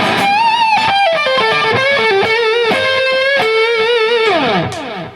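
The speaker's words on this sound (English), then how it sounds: "if we put even more distortion on" A heavily distorted electric guitar on its bridge pickup plays a lead line of sustained, bending notes, loud and close, ending with a descending slide.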